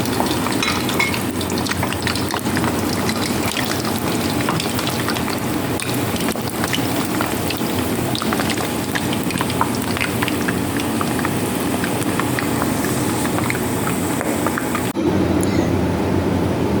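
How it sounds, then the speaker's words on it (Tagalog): Potatoes and carrots fry in hot oil with a constant, dense sizzle and crackle, loud and steady throughout with no voices. "una nating prituhin yung patatas and carrots"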